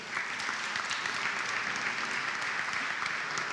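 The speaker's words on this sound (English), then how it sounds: "So a round of applause, please" Steady applause from an audience at a business forum, dense even clapping that holds at one level throughout with no talk over it.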